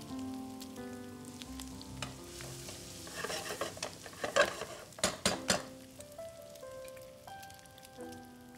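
Onions fry in ghee with cloves in a pan, a crackling sizzle that builds into louder, bursty spattering midway before settling back down, with faint tonal background sounds and no talk.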